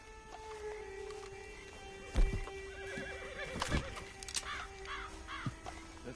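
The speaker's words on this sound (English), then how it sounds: "Get on the horse there." A horse in Red Dead Redemption 2 gives several close, loud whinnies, with hooves clip-clopping underneath and crows cawing in the background, and no voices.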